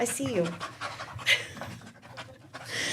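A Boxer dog pants softly and quickly at a dog warden shelter, with people talking nearby.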